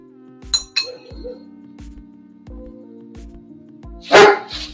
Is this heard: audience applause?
no